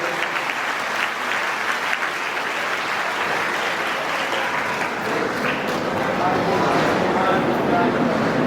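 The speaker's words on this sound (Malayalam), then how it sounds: "കയ്യടി പോരാ" An audience claps continuously at a Srimad Bhagavatam religious gathering, the applause dense and steady throughout and swelling slightly toward the end, with a faint murmur of voices mixed in.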